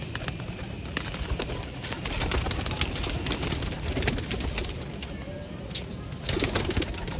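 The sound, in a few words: pigeons cooing and flapping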